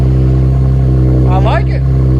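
A Ford Mustang V6 engine idles steadily with a low rumbling hum, then gives a short rev near the end while a person cheers loudly over it.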